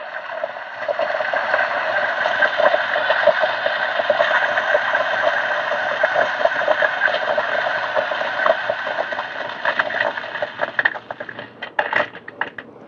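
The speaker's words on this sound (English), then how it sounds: "let's grind some coffee" A DF64V coffee grinder grinding coffee beans, with its motor set to 700 RPM, giving a steady close whirring crunch that runs continuously, then thins and turns sputtery near the end as the beans run out.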